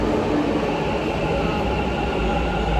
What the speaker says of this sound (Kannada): ಟ್ರೈನ್ಗಳು ಸೌಂಡ್ ನೋಡಿ ಹೆಂಗೆ ಬರ್ತಾಯಿದೆ ಅಂತ